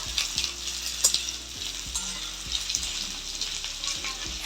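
Onions sizzle steadily as they fry in a pan for chicken curry, with a spoon stirring and scraping in repeated strokes; the frying stays loud and close throughout with no voices.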